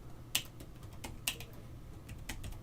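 Keystrokes on a computer keyboard while entering router configuration commands, a handful of sharp, spaced clicks with a couple of louder taps, close and alone over a low background hum.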